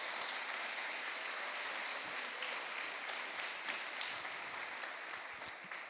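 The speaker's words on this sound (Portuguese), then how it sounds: "Então aplauda o Senhor em nome de Jesus." Church congregation applauding together at a worship service, a steady dense wash of clapping that holds for about six seconds and tapers slightly at the end, with no voices over it.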